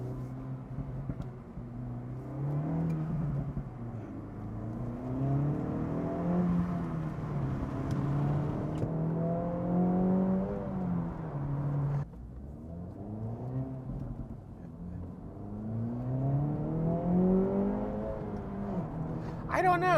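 An Acura Integra Type S hot hatch drives along, its engine note rising and falling through gear changes as heard from outside the car, with a voice talking over it throughout.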